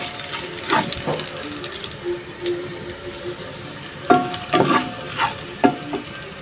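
Garlic sautés in a pan for squid adobo, a soft steady sizzle broken by several sharp scraping stirs and clatters of a utensil, close and fairly loud, with no talking.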